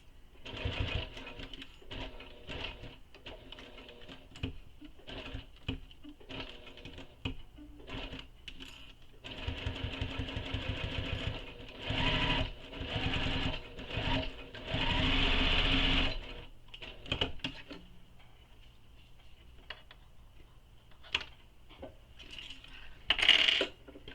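Sewing machine stitching a structural seam in waist pack fabric, running in several quick bursts with pauses between, close and clear, with a few light clicks in the gaps.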